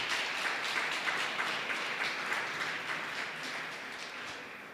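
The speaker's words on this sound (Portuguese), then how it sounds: "Você pode aplaudir o Senhor" A church congregation applauds during a sermon, with sustained, even clapping from many people that tapers slightly toward the end, and no voices over it.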